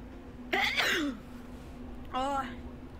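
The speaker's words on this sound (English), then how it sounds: "You just sneezed on me." A person sneezes loudly up close, a sharp burst followed by a second sneeze-like exhale a moment later, over a steady low hum in a room.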